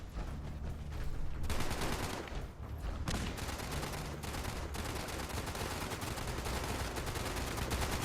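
Dense gunfire crackles in Fallout 76, a continuous volley of rapid shots and bursts at moderate distance, sustained throughout with no speech over it.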